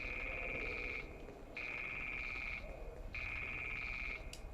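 A telephone rings in the Fallout: London video game. It plays in repeated trilling bursts, each about a second long with short gaps between, loud and steady over a background bed.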